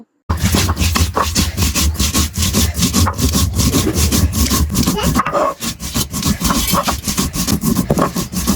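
Dried chili, cumin, garlic and onion are ground by hand on a flat grinding stone, a loud rhythmic rasping scrape repeating in quick back-and-forth strokes, close and continuous with only a brief pause.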